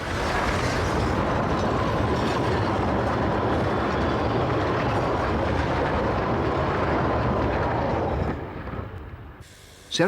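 A narrow-gauge train on the Patagonia Express line in Argentina rumbles along the tracks near Maiten loudly and steadily for several seconds, then the noise fades as it moves away.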